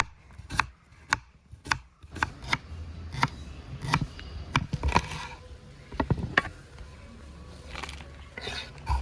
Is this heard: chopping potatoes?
yes